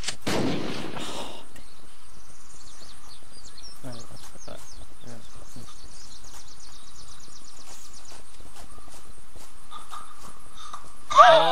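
Rapid gunfire in the Unturned video game during a grenade deathmatch, a quick series of sharp shots and crackles running under a mostly quiet stretch, ending with a louder burst near the close.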